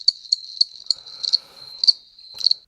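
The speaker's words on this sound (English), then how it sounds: "Crickets?" Crickets chirp in short, high, evenly spaced bursts, clear and fairly close against an otherwise quiet background.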